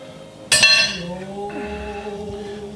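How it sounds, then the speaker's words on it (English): A spoon or whisk stirs egg yolks into a crepe batter in a kitchen bowl, giving one sharp clink against the dish followed by a lingering ring and soft scraping. "And then we're just gonna stir that in."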